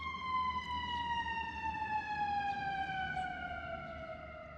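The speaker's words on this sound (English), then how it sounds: "The siren is scaring away the robin." An emergency vehicle siren wails outdoors in a steady, loud, continuous rising-and-falling tone, holding strong throughout and easing slightly toward the end, with no talking over it.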